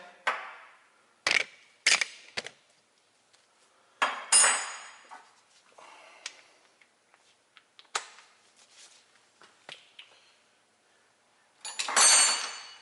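Metal wrenches and sockets clank and clatter in scattered bursts during replacement of the left rear strut on a 2004 Ford Explorer 4X4, close and sharp, with quiet gaps between the impacts.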